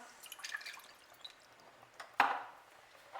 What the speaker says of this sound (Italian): e in un pentolino mettiamo l'acqua